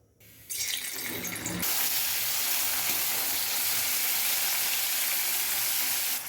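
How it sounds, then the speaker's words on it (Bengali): Paneer pieces frying in hot ghee in a kadai, a dense steady sizzle that swells after a brief quieter start and holds loud and close with no talk. "এবার পনিরগুলো আস্তে আস্তে ভেজে নেব।"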